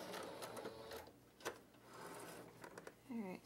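A sewing machine quietly runs stitches through fabric while a cross-stitch storage sleeve is finished, with a few mechanical clicks and a voice talking over the low whir.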